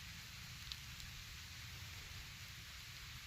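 Steady rain falls on a hiking trail in the Shenandoah Valley area between McAfee Knob and Tinker Cliffs, an even hiss close by with a faint drop or two and no voices.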